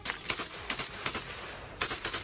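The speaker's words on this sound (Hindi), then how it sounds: "कादिरोव का एक लड़ाका एक सुनसान इलाके में ताबड़तोड़ फायरिंग करता दिखाई दिया" Rapid gunfire from a Chechen fighter loyal to Kadyrov, shooting in a deserted area between railway tracks: several sharp bursts of automatic fire in quick succession, loud and close, with no voices.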